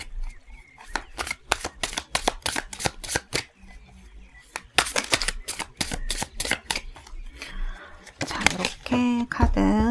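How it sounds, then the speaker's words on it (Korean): Prisma Visions tarot cards being shuffled by hand, a close, steady run of crisp riffling clicks and flutters, with a voice briefly heard near the end. "자, 카드를 잘 섞고요."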